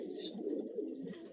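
A male pigeon coos softly and steadily at close range, a low murmuring call that carries on without pause and with no talking over it.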